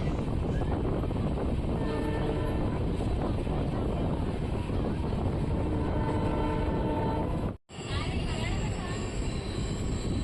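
A passenger train runs at speed past Hombal railway station, heard from on board as a loud, steady rumble and clatter of wheels on rails that continues throughout, broken by one brief dropout.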